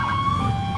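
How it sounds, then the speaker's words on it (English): Police vehicle sirens wailing through city streets, a steady, loud electronic tone with a slight waver, heard briefly over rumbling traffic. "the lights are going, the sirens are going, the traffic stops for you"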